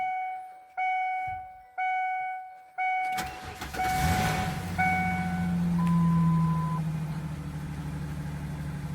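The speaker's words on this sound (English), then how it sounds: "that is an engine start for that" Several chimes beep in a steady pattern, then a Ford Ranger engine cranks and catches, revving up before settling into a loud idle.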